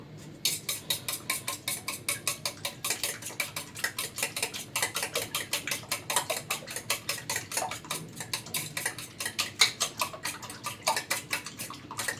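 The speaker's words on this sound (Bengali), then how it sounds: "এরপর ডিমটাকে ভালো করে ফেটে নিব" An egg is beaten with salt in a bowl for khichuri and egg bhuna, a quick, even run of light clicking taps that repeat steadily and fairly softly throughout, with no one talking.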